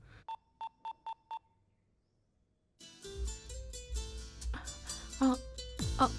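Five short, evenly spaced electronic beeps like keypad dialing tones as a phone dials a call, then silence, followed by a louder burst of tuneful ringtone-like sound.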